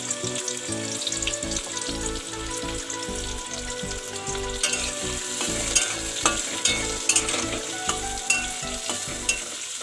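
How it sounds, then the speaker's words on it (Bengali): Chopped onions fry in a pan for a brinjal bharta, a loud continuous sizzle and crackle with rhythmic stirring scrapes, a run of sharper spattering pops toward the end, no voices. "এবার এটাকে ভালো করে ভেজে নেব।"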